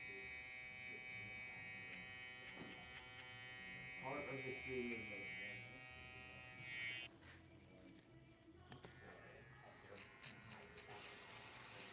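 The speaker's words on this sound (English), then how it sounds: "go back to your trimmer for a second and see" Electric hair trimmer buzzing steadily while cutting a fade in a barbershop, a close, continuous hum with brief gaps as it touches up hair, with voices talking underneath.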